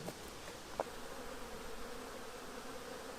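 Honey bees hum around a hive frame during queen cell grafting, a soft, steady buzzing drone with a faint click near the start and no voices.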